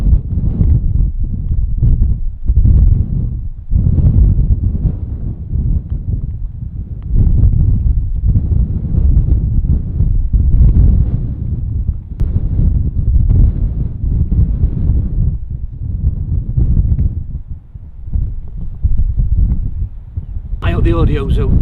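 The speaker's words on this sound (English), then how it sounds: "The audio's okay because it's really blustery, and I just hope that you can hear me" Strong, blustery wind buffets the microphone on a links golf course at Royal Portrush, producing a loud, continuous low rumble with gusty surges throughout and a brief higher-pitched hiss near the end.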